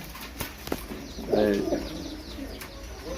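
A Bokhara pigeon gives a single soft, close coo amid light background noise and a few faint clicks, with no voices.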